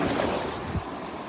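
Ocean surf rolling onto a beach, a steady broad wash of breaking waves with wind buffeting the microphone, fairly close and continuous with no voices.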